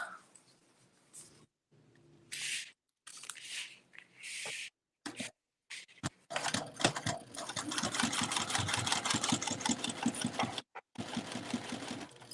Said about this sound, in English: I'm going to sew all the way across.